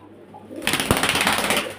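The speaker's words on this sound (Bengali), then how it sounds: "পায়রা খুব ছটাছটি করছে, এই পায়রা বেরিয়ে যাচ্ছে" Pigeons in a loft at Beldanga suddenly burst into fluttering, their wings giving a close, rustling flurry of flaps after a brief quiet moment.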